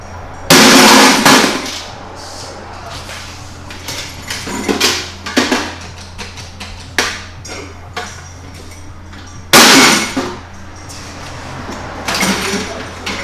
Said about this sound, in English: Drop it on the floor.